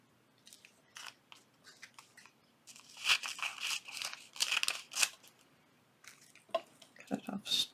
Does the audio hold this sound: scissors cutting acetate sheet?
yes